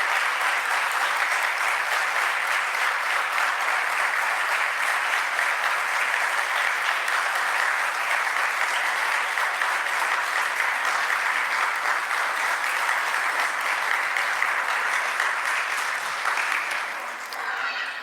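Audience at a Jain community gathering clapping together in sustained, dense applause that holds steady for many seconds before tapering slightly at the end, loud and filling the room.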